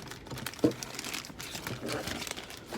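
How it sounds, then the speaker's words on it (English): Crinkly plastic mail packaging is handled and snipped open with scissors, giving a quiet, close, continuous rustle and crinkle with one sharper snip near the start. "Snip this open."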